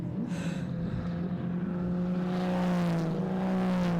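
Holden HQ race cars at Winton circuit in a race, a continuous loud engine drone with steady tonal harmonics that rise slightly as a car passes close by, no voices.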